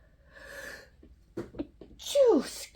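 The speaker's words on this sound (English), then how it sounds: "I'm going to sneeze." A single sharp sneeze bursts out near the end, preceded by a soft breathy intake and a few brief vocal sounds.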